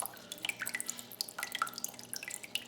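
Water from a hydroponics system pump splashes and drips like a small fountain, in quick irregular patters close by with no talking.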